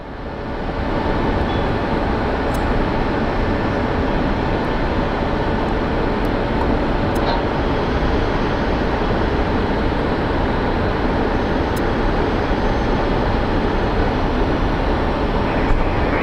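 An airliner taking off at Phoenix Sky Harbor airport, a steady, loud, broadband jet engine roar that holds constant throughout without voices.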